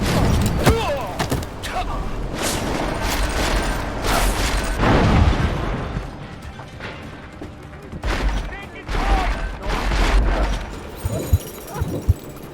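Gunfire in the video game Deus Ex: Mankind Divided, bursts of sharp shots and heavy booms in a chaotic firefight, with clustered volleys and short gaps, under shouted voices.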